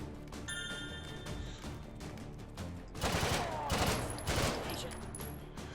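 Rapid full-auto bursts from a PPSh submachine gun in a video game, a continuous rattling fusillade growing louder in the second half over constant game background noise.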